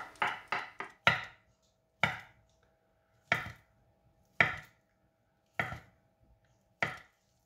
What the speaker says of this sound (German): Mozzarella klein schneiden